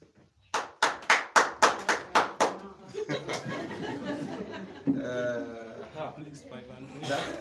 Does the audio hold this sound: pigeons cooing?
no